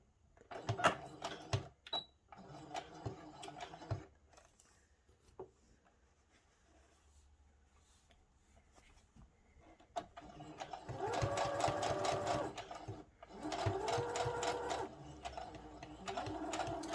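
Sewing machine back stitching a pleated satin-lined bonnet, several short bursts of rapid mechanical whirring separated by quiet pauses, with longer, louder runs of stitching toward the end.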